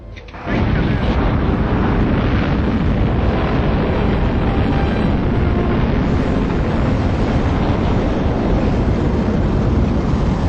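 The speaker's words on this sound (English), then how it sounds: "10, 9, 8, 7, 6, 5, 4, 3, 2, 1. Firing command. Firing command." A rocket engine firing at launch in early JPL history bursts in suddenly and becomes a loud, continuous, broad roar that holds steady without a break.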